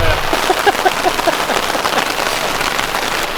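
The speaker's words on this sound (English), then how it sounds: "I actually don't think it's possible for it to rain harder than this." Heavy rain pours down on a canoe trip in Quetico Provincial Park, a loud dense patter of drops on surfaces throughout, with a brief faint voice-like sound near the start.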